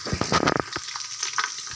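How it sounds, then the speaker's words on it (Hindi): Two tablespoons of ginger garlic paste fry toward light golden for beef nihari: a loud burst of sizzling and stirring up front, then a lighter, steady crackle for the rest of the moment. "अदरक लहसुन को हमने लाइट गोल्डन करना है"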